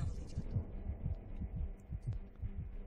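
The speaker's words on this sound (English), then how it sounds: "Why is my heart beating so fast?" A rapid, low, thumping heartbeat from the video game Lifeless Planet pulses steadily and closely, with a faint background hum and no talking.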